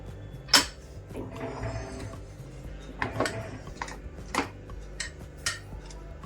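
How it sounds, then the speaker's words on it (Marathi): A home pressure cooker holding chicken biryani is opened in a kitchen, sharp metallic clanks and clicks of the lid knocking against the rim scattered over several seconds against a low background hum. "तर आता मी कुकरचं झाकण उघडतेय"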